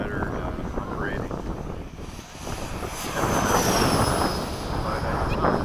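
A Freewing 80mm F-5 radio-controlled model jet flies in windy conditions, its steady whining rush rising and swelling over the few seconds against gusty wind noise on the microphone.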